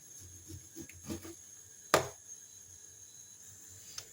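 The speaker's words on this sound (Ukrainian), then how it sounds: "Поріжу на кубики." A few soft knife taps on a board, then one sharp chop, and a faint tap near the end, close and quiet, as homemade pork fat with tough rind is cut into cubes.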